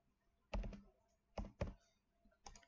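Soft keystrokes on a computer keyboard, a few separate taps with gaps between them, quiet and close with no talking.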